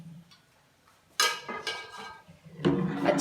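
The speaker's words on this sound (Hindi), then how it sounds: "मुसलसल चम्मच हिलाते जाएंगे ताकि इसकी गुठलियाँ ना बने और ये नीचे ना लगे" A spoon stirring carrot milk rice pudding in a pot, quiet at first, then a few sharp metallic scrapes and clinks against the pot, close and irregular.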